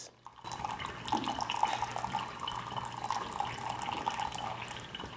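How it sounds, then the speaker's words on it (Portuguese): Water poured from a kettle in a steady thin stream over coffee, aiming for about 200 ml; a continuous close trickle and splash with no talk. "Eu vou deixar essa água caindo nesse fluxo até a hora que eu completar ali 200 ml."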